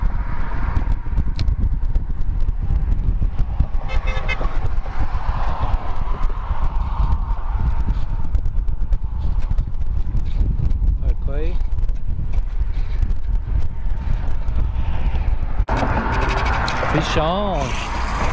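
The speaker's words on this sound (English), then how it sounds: "this wind in this side is crazy" Strong wind on a beach during pompano fishing roars into the microphone without a break, loud and close, with voices talking over it now and then.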